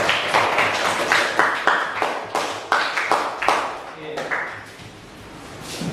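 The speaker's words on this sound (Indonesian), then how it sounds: "Ya, tepuk tangan." Hands clap in a classroom after group presentations in a science lesson, a loose burst of sharp claps from a handful of students, fairly close and fading toward the end.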